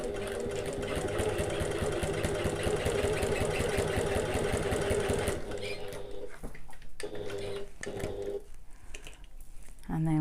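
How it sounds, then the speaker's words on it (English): A sewing machine runs along the full length of a bag strap tab for a Getaway Bag, a continuous rapid mechanical stitching hum that stops about halfway, leaving quieter handling sounds. "I'm going to sew along the entire length."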